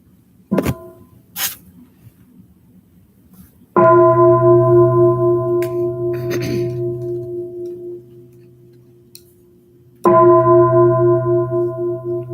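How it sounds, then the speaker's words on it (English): A meditation bell struck at the start of a livestreamed meditation gathering, each loud resonant strike ringing out and slowly fading, with a quieter knock before the first and a fresh strike at the end. "Now please enjoy 3 sounds of the bell as you prepare for meditation."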